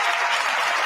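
Applause breaks out during a played political speech, a short, dense burst of crowd clapping that stays loud and steady throughout.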